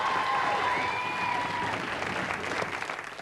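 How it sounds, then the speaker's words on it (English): Studio audience applause on the 1992 quiz show Blockbusters, a dense, sustained burst of clapping from a full room, loud and even throughout. "give him a clap while he does so"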